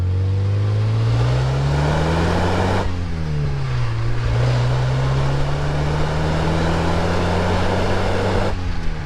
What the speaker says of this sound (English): with the factory airflow meter, the engine was running strong, it had nice linear acceleration